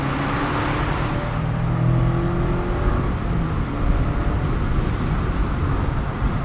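A 2024 Mazda MX-5 Miata ND3 pulls back up toward highway speed during a rush hour commute, its engine a steady, droning hum under constant road and wind noise from inside the cabin.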